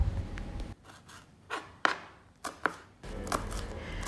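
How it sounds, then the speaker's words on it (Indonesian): A knife chops shallots and chilies on a board for white fried rice, giving a few distinct, close, sharp cuts in an irregular rhythm with quiet pauses between them. "lagi iris bawang sama cabai mau ditumis buat nasi goreng putih"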